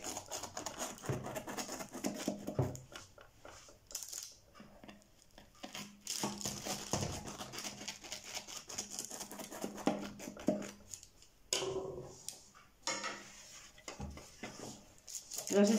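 A frangipane galette des rois being sliced, with the close clink and scrape of a knife and server against a plate and the crackle of pastry, spread over several seconds, with faint background talk.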